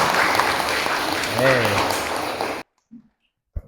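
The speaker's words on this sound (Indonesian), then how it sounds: "Tepuk tangan teman-temannya." Classmates in a religious education class clap together, a busy patter under a voice that briefly rises over it, before the sound cuts off abruptly, leaving near silence with a couple of faint knocks.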